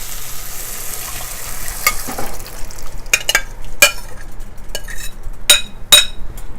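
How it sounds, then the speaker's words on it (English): Garbanzo beans being stirred into masala in a pan, with a steady low sizzle under repeated scraping and clinking strokes of a spoon against the pan, growing busier in the second half. "Again I am going to stir them and cook them little bit so masala and the garbanzo beans are really blended."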